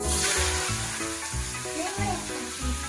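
Ingredients fry in oil in a pan, a steady close sizzle with rhythmic stirring scrapes layered on top.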